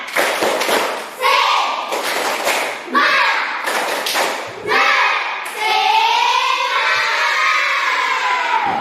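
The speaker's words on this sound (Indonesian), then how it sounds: "mari kita tepuk semangat" A school class claps a rhythmic spirit clap in bursts of patterned beats, the children's voices chanting and shouting between and over the claps, loud and close in a classroom.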